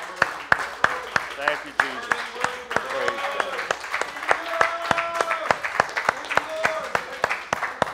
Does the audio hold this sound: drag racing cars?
no